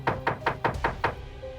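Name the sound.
knocking and banging on a door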